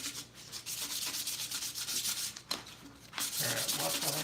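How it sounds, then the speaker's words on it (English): Painted glass being sanded by hand to distress the milk paint, a steady close rasping rub that runs almost throughout with a short pause before resuming more strongly. "All right, I'm gonna sand this."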